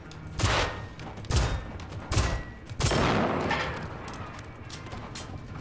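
Several sharp gunshot bursts from a robot-themed video game ring out one after another, loud and punchy with brief echoing tails between them and no talking.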